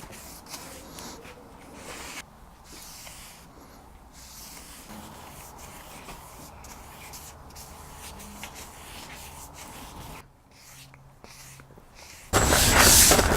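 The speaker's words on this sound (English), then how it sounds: "Applying 2 coats of hard wax oil for the final finish," Foam brush spreading hard wax oil across a recycled scaffold-board tabletop, a soft continuous rubbing and swishing with short pauses between strokes, ending in a sudden louder burst of noise.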